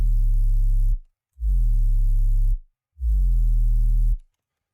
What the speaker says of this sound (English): Let's just make an 808. And so I sound designed my own 808.